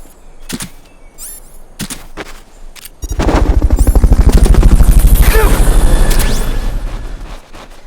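A Fulton recovery helicopter in Metal Gear Solid: Peace Walker comes in with a loud, rapid rotor chop after a few sharp impacts, its thumping pulses swelling and then easing slightly as it hovers close by.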